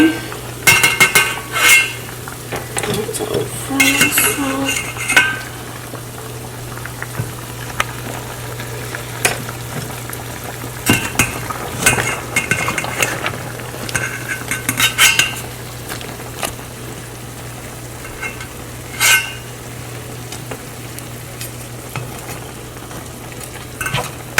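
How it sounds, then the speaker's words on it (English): Clinking utensils stirring and scraping a pan of frying chicken, with metallic clatters over a steady background hum; faint sizzling underneath, no talking. "I love frying my chicken, so that I will also fry."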